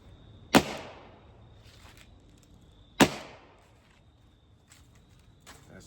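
Two sharp, loud pneumatic cracks from a CO2-powered TRP pepper ball launcher, spaced about two and a half seconds apart, each with a short ringing tail, and faint handling noises between shots.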